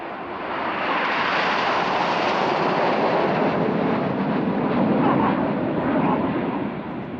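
Red Arrows jets flying a display turn at Leeuwarden Air Base, a loud continuous broadband jet roar that swells and holds steady throughout, with no talk.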